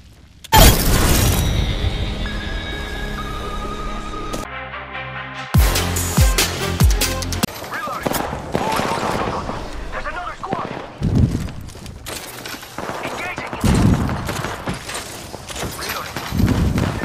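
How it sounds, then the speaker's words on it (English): Thermite grenade burning and rapid gunfire in the Apex Legends battle royale game, with loud bursts of shots, a crackling fiery hiss and sharp impacts across the whole stretch, mixed under game voice callouts. "Throwing thermite grenade."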